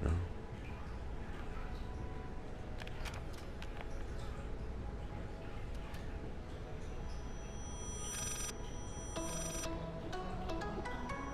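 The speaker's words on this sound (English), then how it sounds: "It's a phone ringing somewhere." A telephone rings somewhere in the horror video game Layers of Fear, a distant, muffled electronic trill that surfaces late among creaks, clicks and a constant eerie ambient drone.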